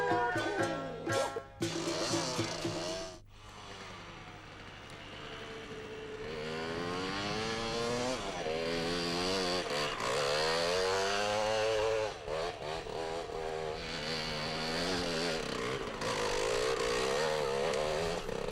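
An Aprilia RX 125 two-stroke dirt bike ridden off-road, its engine revving hard with a high, buzzing wail that rises and falls through the gears, loud and close throughout with no talk.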